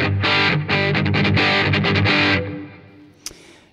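An electric guitar runs through a Harley Benton British Sound Truetone distortion pedal, playing thick, loud distorted chords in choppy bursts with short gaps, then letting the last one ring out and fade.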